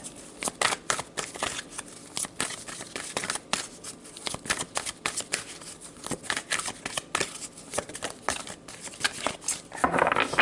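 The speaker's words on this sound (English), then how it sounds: "let's pull some more cards to gain more information about this" Tarot cards are shuffled by hand in a continuous close riffle of papery slaps and flutters, steady throughout and slightly louder at the end.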